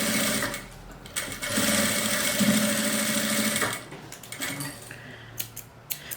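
A sewing machine runs steadily for a few seconds stitching the lining of a small fabric pouch pocket, then slows into short irregular bursts and handling clicks, close and alone without talk.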